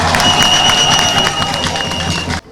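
A crowd at a donation ceremony in Wanrarou applauds the Claudine Talon Foundation, a loud, even wash of clapping and cheering that carries steadily and then cuts off abruptly near the end.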